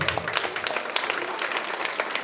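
Sustained audience applause at a school graduation ceremony and farewell party, a dense, even wash of many hands clapping at moderate level throughout, with no voices standing out.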